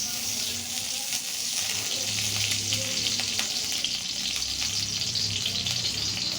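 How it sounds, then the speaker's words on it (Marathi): Semolina (rava) roasting in ghee in a kitchen pan gives a steady, loud, continuous sizzle with faint scraping from stirring throughout. "आता पहिले रवा भाजणार"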